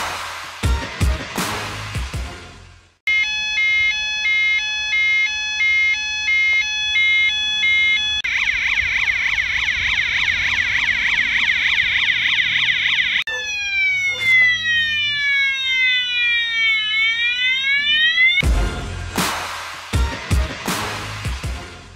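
An outdoor solar-powered Zigbee intrusion alarm siren sounds loudly and up close. It cycles through several electronic patterns, from rapid warbling beeps to rising and falling wails, with sharp clicks before and after.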